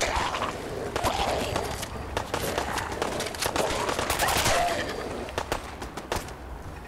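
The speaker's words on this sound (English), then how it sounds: "What the fuck are you shooting at?" Gunfire in the video game Fallout 4 crackles in rapid bursts of sharp shots, loud and dense in places with brief gaps, over a busy game background.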